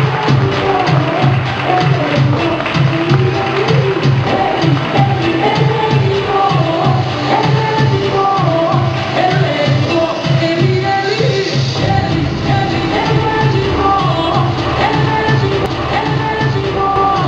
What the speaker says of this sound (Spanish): Fuerte el aplauso para Olivia Grey.